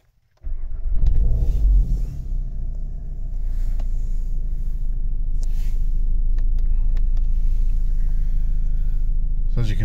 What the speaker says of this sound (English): Just switch the ignition on.